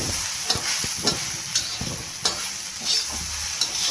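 Okra (bhindi) stirred and fried in a pan over medium to high gas, with steady sizzling broken by repeated spatula scrapes and taps against the pan, close and alone.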